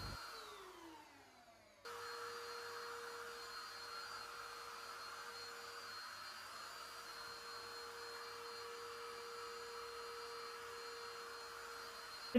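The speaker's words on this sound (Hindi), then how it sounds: "ये जूते को वैक्यूम क्लीन मैं कर ही लेती हूँ" A handheld vacuum cleaner used on shoes whines down in pitch, then switches to a steady, loud, even drone with a constant tonal hum that runs unbroken for about ten seconds, with no talking.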